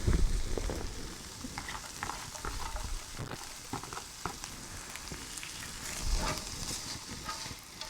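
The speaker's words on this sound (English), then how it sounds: "The next thing I'm going to add into the stir fry is going to be our carrots." Carrots go into a hot pan of stir fry and sizzle steadily, with crackling spits and a few stirring scrapes in a continuous close frying hiss.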